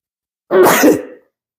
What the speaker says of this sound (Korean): 재채기가 나네요.